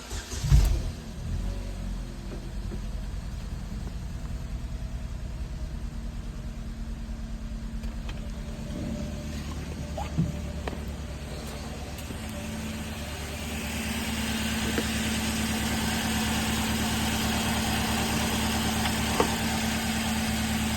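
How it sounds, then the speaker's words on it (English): A Chevy Cobalt engine cranks and catches with a short burst, then settles into a steady, low idle hum with slight vibration, rising a little later on, close by and with no talk. "All right, next, I'm gonna start the car."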